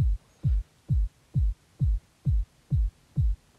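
Trance kick drum programmed in FL Studio, thumping eight times at a steady four-on-the-floor pace, each hit a deep, punchy low boom that decays quickly, played alone without other instruments.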